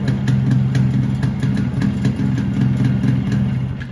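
A 1995 Yamaha RX100 two-stroke motorcycle idles steadily and close by after a half-kick start, its low, even putter going on with no talk.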